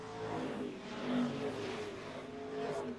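Modified stock cars racing at Mesa Marin Raceway under green flag: a steady, dense engine roar from a pack of cars that swells and fades slightly, heard from a distance with no voices.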